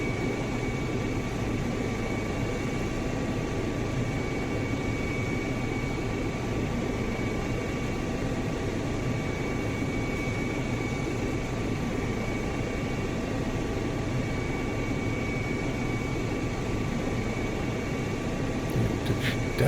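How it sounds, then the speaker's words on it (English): Steady, continuous turbine whine and rotor hum from a Rotorsims EC135 helicopter in the X-Plane 11 flight simulator, hovering near San Francisco airport. The tone is even and unbroken throughout, with faint high-pitched tonal lines above it and no talking. "I've got a lot to learn about this helicopter."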